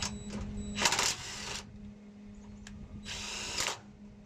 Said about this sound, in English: Let's take these bolts loose and see if it pops